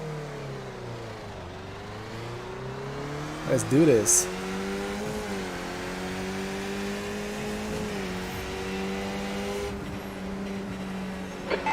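Race car engines droning steadily in an iRacing sim race, with pitch sweeping up and down through gear changes while someone talks over the continuous engine noise.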